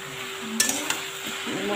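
Chopped taro leaves being stirred and mixed in a pan after frying, with a few sharp clinks of a spoon against the metal pan over a faint background sizzle, brief and close.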